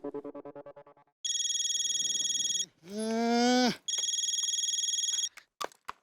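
A mobile phone on speaker places an outgoing call: a short dialing tone sequence, then repeated loud electronic ringback chimes with a sweeping tone between them, heard up close with no talk.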